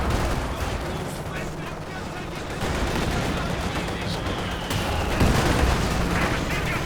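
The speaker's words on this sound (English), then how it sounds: "Oh man, the heavy mortar continuing to hit hard." Heavy mortar shells and other gunfire in the strategy game Company of Heroes 2 keep up a dense, continuous barrage of booms and blasts, with a louder impact near the end, all mixed with battle noise.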